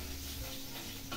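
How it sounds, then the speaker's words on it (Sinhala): Garlic sizzles as it heats in oil for a Sri Lankan chilli fish dish, a steady close frying hiss with no voices. "දැන් සුදු ලුණු ටික තෙල් එකේ ටිකක් රත් වෙන්න දෙමු"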